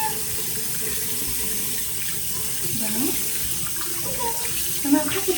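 Water running steadily from a faucet into a home sink, a close continuous splashing hiss with faint background voices and a few small clinks near the end.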